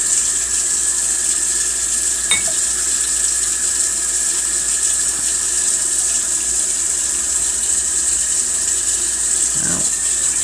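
Tap water running into a sink, a steady hissing flow that holds constant throughout, with a couple of faint clicks over it.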